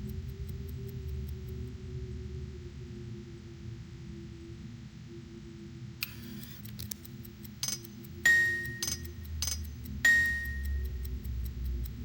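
A quiet hum runs throughout, then a series of sharp clicks and bright chiming dings arrive in an irregular pattern in the second half.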